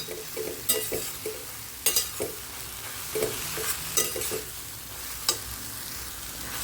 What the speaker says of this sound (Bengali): এই সময় কিন্তু ওই অনবরত নাড়তে হবে, যাতে সুজিটা আর কুমড়োটায় গলা পাকিয়ে না যায়